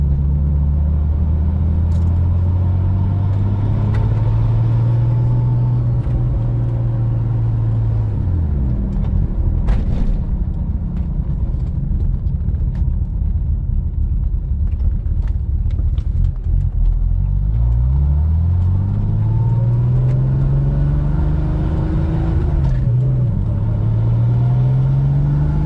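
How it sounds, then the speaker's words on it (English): A 1987 Porsche 911 Carrera Turbo on a bumpy road, its engine droning steadily with a rising turbo whine that swoops up, drops and climbs again as revs build, no talk over it. "You can hear that turbo kind of spooling up."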